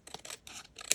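Paper ephemera trimmed with scissors, giving a few short crisp snips and rustles close by, the last cut sharpest and loudest, with no voices.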